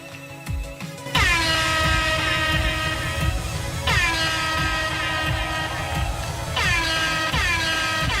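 Loud, repeated air horn blasts ring out over driving Sonic Forces music at the Tokyo Game Show, each burst sliding down in pitch before the next one hits.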